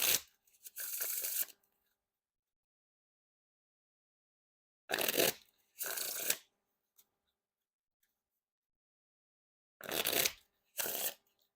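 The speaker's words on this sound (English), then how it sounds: "Now time for the Riffle Shuffle or Bridge Shuffle." Slicers playing cards are riffle-shuffled three times, each a pair of crisp, rapid fluttering bursts of cards interleaving, separated by several seconds of near silence.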